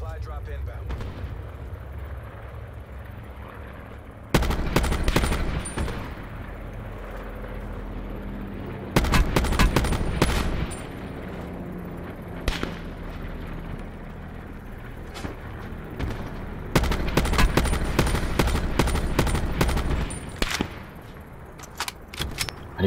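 Gunfire in Call of Duty: Black Ops 4 erupts in several sharp automatic bursts with booming impacts and loud cracks, separated by quieter stretches where players talk.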